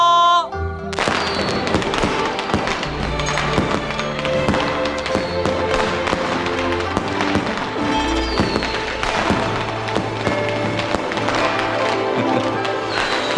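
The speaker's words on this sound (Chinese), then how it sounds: "放烟" Fireworks go off at a Ming imperial court birthday celebration in a costume drama, with repeated sharp pops and crackling bursts over festive music throughout.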